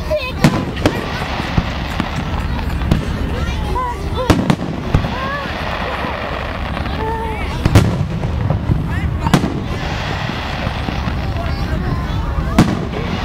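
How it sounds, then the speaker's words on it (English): Public fireworks display in Sault Ste. Marie, Michigan, 2011: repeated loud booming bursts and crackling pops at irregular intervals, with crowd chatter and voices talking underneath throughout. "Look at the fireworks."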